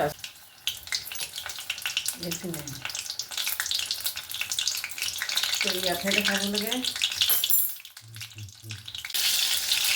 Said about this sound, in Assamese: বেঙেনা চপটো লেটিয়াই লৈছোঁ আৰু তেলতে পাতাকৈ ভাজি লওঁ